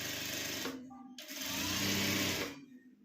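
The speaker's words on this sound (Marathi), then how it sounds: "आता आपण अशी टीप मारून घेऊया अर्धा इंचाला थोडं कमी" Domestic sewing machine stitching blouse fabric in two close, fast mechanical bursts separated by a brief pause, loud and near with no talking.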